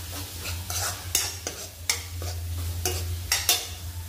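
Spices being stirred and fried in a pan for masala pav, with an ongoing sizzle and repeated scraping stirring strokes close up, no voices.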